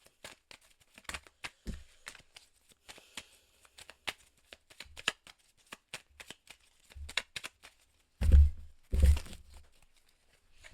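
Tarot cards are shuffled close up in rapid bursts of crisp riffling and slapping, followed by two louder, longer riffle-bridge shuffles near the end, with no speech.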